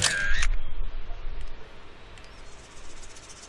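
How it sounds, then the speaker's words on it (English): A camera shutter clicks in the 2002 PC game Dora the Explorer: Animal Adventures, a short bright snap near the start followed by a faint insect-like chirping background. "Click again to take a picture for the field journal."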